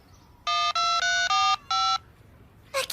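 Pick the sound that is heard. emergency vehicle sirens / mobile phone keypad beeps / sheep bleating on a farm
mobile phone keypad beeps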